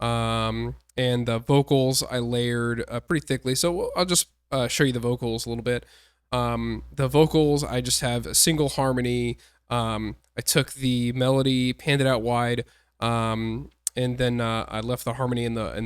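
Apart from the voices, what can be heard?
No everyday noise stands out behind the speech.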